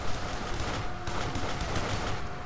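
Pistol fire in the game Duke Nukem Forever: rapid, loud gunshots blur together into a dense, continuous barrage that fills the whole stretch.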